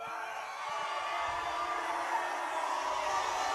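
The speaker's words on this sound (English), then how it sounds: "Coach Burns getting the crowd fired up just a little bit here" A football crowd cheers and roars continuously at a Spencer County versus Shelby County game, a dense steady wash of voices that swells slightly partway through.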